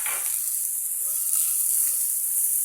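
Onions fry in a hot pan as spices go in, giving a steady bright sizzle and hiss with faint stirring scrapes, close and unbroken, with no one talking.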